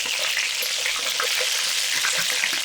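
Pork belly frying under a lid in a covered pan, a loud, dense, continuous sizzle and spatter that holds steady from start to finish, with no voices.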